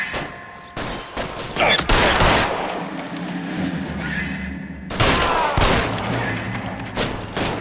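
Repeated bursts of gunfire ring out during a shootout in LA Noire Remastered on PS4, loud overlapping volleys with brief lulls, mixed with game ambience and little talk.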